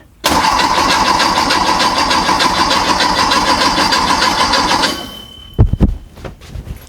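First start of a flat-four engine: a loud, buzzy cranking drone with fast regular pulses runs close for about five seconds, then cuts out, followed by a few heavy thuds and clunks.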